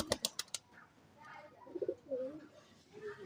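Old house pigeons in a loft in Rajshahi give low, soft coos after a few sharp clicks. The sound is quiet and close, with a voice faintly mixed in.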